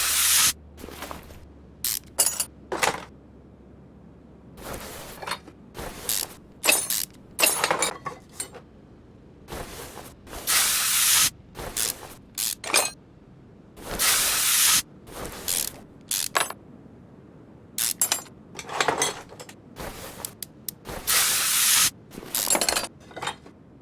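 WD-40 spraying on car parts in the video game Car Mechanic Simulator 2021: repeated short, bright hissing bursts at an uneven rhythm, mixed with ratcheting clicks and metallic clinks from the workshop tools.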